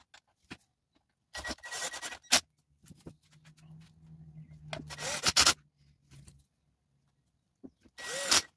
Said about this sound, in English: Let's put a screw in it before it falls apart.